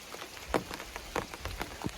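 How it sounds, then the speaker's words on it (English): Light rain shower pattering on an umbrella on the Appalachian Trail, scattered close drops tapping irregularly over a soft, steady wash of falling rain, no voices. "hopefully it's just a passing shower"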